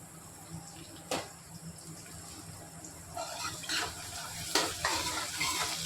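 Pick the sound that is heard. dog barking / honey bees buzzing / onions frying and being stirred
onions frying and being stirred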